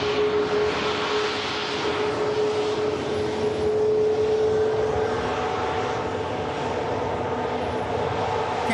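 An EasyJet Airbus Neo airliner arrives from Funchal, its engines giving a steady, continuous roar with a sustained whine, fairly loud and unbroken throughout, with no voices.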